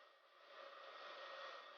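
A hand-held blow dryer drying and lifting wet, combed-back hair, a steady close whooshing roar of airflow that holds evenly throughout with no talk.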